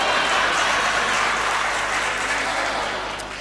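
An audience at a Hindi comedy poetry show claps in steady, dense applause that fills the room and then tapers off slightly toward the end.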